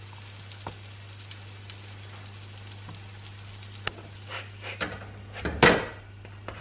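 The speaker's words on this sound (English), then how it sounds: "we're just going to cook it on here until it's golden on each side for about 1 minute" Paratha cooking on a hot tawa, a low steady sizzle with occasional faint taps and a louder clatter near the end, close and without talk.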